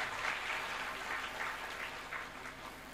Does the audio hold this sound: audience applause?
yes